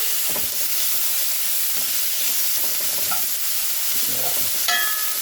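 Seasoned nacho fries stirred in a hot pan, a steady close sizzle and hiss with soft scraping strokes running throughout.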